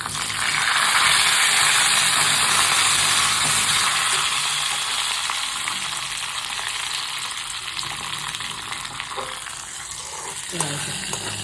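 Curry leaves added to hot oil for tempering a mixed vegetable stew, giving a loud, steady crackling sizzle close to the microphone that eases slightly and continues throughout, with no one speaking.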